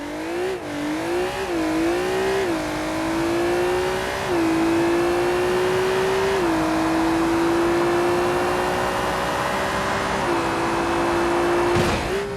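A Maserati MC20 supercar in the game BeamNG.drive holds a loud, steady engine drone, its pitch stepping up and down through gear shifts, with a sharp thump near the end.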